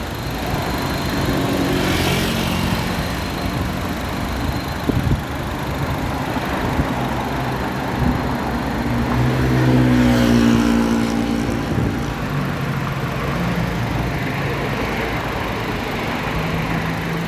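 A Honda CR-V 2.4 engine idles steadily at close range, a continuous low mechanical hum with slight fluctuations, no talking.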